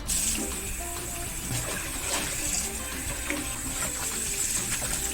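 Blanched pork bones rinsed under a running kitchen tap while making a partridge and pork bone soup, with a steady, continuous gush of water splashing throughout and no talking.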